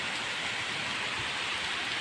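Heavy rain pours down steadily, a dense, continuous hiss of drops drumming on surfaces all around with no pauses and no voices.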